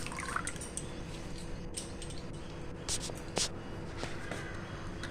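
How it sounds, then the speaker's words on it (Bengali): Washed potatoes squeezed by hand to press the water out before going into a perforated bowl, giving soft wet squishing and faint drips over steady low kitchen noise, with a few brief sharper splashes. "এইভাবে নিংড়ে আরেকটা ফুটো বাটিতে রাখবো। একদম জল থাকবে না, শুকনো করে।"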